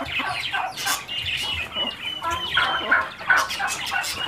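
Muscovy ducks, heavy poultry whose males reach 7 kg, call in a flock with a run of short, scratchy clucks and squawks close by, overlapping irregularly over a low background murmur.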